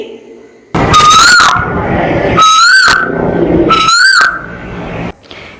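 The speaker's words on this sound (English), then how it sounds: "song of cuckoos" Three loud, repeated cuckoo calls, each a rising whistled note with a harsh edge, separated by brief pauses and close to the listener.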